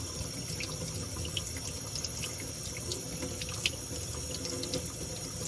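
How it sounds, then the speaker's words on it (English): Water runs steadily from a sink tap turned on low, a continuous close splashing hiss with faint drips and clinks on top and no speech. "Then you'll turn the water on low."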